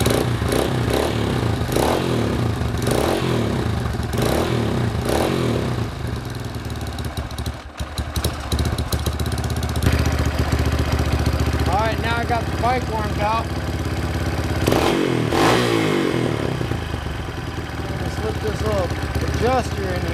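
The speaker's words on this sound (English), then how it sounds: "let's fire this thing up and see how the valves sound" A Honda CRF230F dirt bike engine starts with a little choke set and settles into a steady, clattery idle with a few revs, close by, while someone talks over it.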